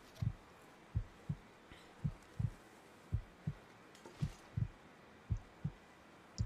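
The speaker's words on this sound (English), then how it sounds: "Oh dear, I hear heartbeat." A muffled heartbeat from the video game The Long Dark thumps in slow, regular double beats, soft and low, repeating steadily with nothing else over it.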